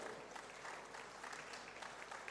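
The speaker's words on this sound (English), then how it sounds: "Please give a big hand of applause for him." Steady audience applause at a Rotary district conference, a dense continuous wash of many hands clapping, heard at a distance and fairly faint.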